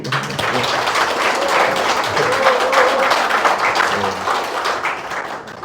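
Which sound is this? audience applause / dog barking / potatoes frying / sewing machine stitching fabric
audience applause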